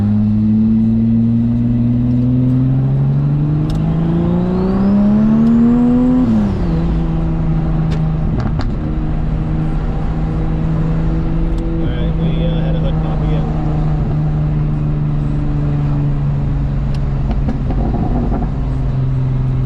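A turbocharged Cutlass station wagon cruising on the road, heard from inside as a loud steady engine drone that climbs in pitch during acceleration, drops back with a shift and then holds level, with road rumble and occasional speech.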